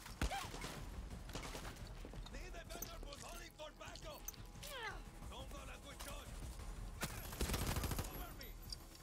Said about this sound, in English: Hey, this gun's fire rate's kind of crazy.